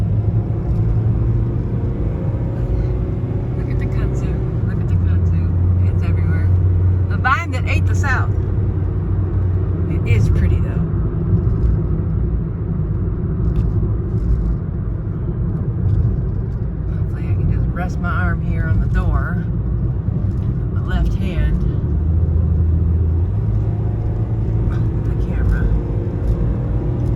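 A small, zippy car drives along a road lined with kudzu, its engine and tyre rumble steady and close throughout, with people talking quietly over it.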